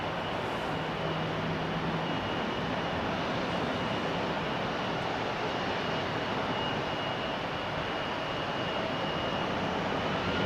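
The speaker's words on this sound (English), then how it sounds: "Transavia flight 6917 to Olbia. 8-year-old airplane, first flight February 2016." A Transavia airliner at a rainy Amsterdam Schiphol Airport gives a steady, loud jet engine roar that holds evenly without a break.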